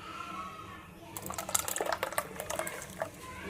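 A smooth ground almond mixture is poured into a litre of hot milk while making kesar badam firni, giving a quiet liquid splashing and trickling that begins partway through and continues in soft, uneven bursts.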